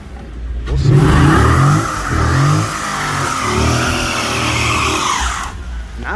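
A 2012 Chrysler 300 SRT8 with the 6.4 HEMI engine revs loud and close, rising in a strong surge, easing briefly, then climbing and holding a sustained roar before cutting off near the end.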